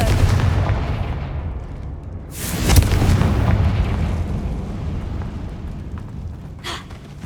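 Confringo spell explosions from the Hogwarts Legacy video game burst in a loud booming blast, followed by a rumbling decay and a smaller second burst near the end, with no talking.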